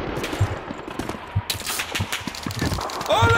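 Rifle and machine-gun fire from the video game Call of Duty 2: a string of sharp, fairly close shots cracking at irregular intervals over a busy combat background, with no talking.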